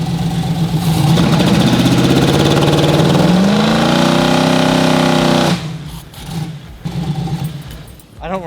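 A car engine running and revving after a timing change, loud and close, holding a steady droning pitch that climbs before cutting off abruptly, then idling more unevenly.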